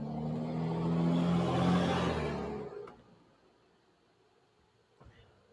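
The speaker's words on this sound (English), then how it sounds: "Apologize for that truck outside." A truck passes outside, a broad rushing roar that swells for about three seconds and then fades away, followed by quiet and a brief faint knock near the end.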